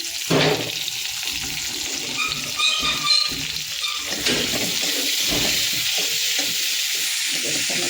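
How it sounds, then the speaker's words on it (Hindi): Chopped onions frying in a pan for an Odisha-style mushroom masala curry, with a steady close sizzle, stirring scrapes and some clattering throughout, no talking. "पियाज को भाजीदवा"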